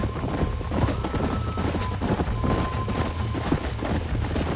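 Horses gallop in the Red Dead Redemption video game, a steady rapid clip-clop of hooves with an occasional whinny, loud and continuous over a busy game soundtrack.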